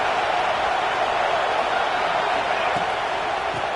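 Football stadium crowd at an Oregon game, a loud continuous roar of cheering that fills the whole stretch without letup.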